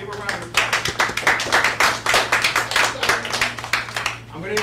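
A small audience breaks into clapping after a graduate from the University of San Diego is introduced: close, irregular handclaps in a steady burst for several seconds, over a faint low hum and some cheering voices.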